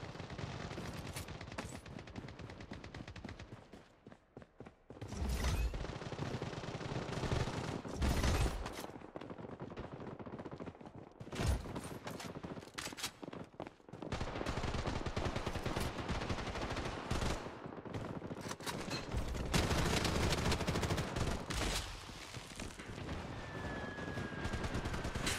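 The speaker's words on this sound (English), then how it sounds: "Bro, shotguns are just crazy." Rapid, loud gunfire bursts in the video game Bloodstrike on the Shutter Island map, with shotgun blasts mixed into dense overlapping shots, brief pauses and sustained stretches of firing across the whole span.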